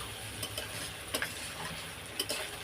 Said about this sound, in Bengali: আলতো হাতে একটু নাড়াচাড়া করে পেঁয়াজের সাথে এটাকে মিশিয়ে নিচ্ছি